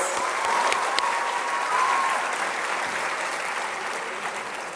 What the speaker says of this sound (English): Let's flag it off with a loud round of applause.